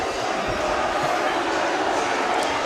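A large, fervent Exeter crowd of over 6,500 at a university rugby match between Exeter and Bath, a steady, dense roar with a commentator talking over it.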